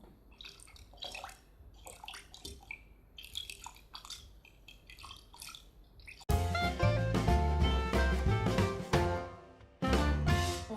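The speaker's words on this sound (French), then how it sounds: "On peut aussi utiliser l'eau dans un récipient." Water in a container worked for foley: scattered splashes and drips at first, then a sudden louder, denser stretch of sloshing and bubbling that cuts out briefly and resumes.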